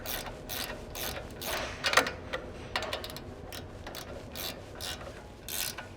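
Quick metallic ratchet clicks in short bursts, close up, as a nut is run down onto a ball joint taper on an aftermarket upper control arm of a 2019 or later GM 1500 pickup, with no talking.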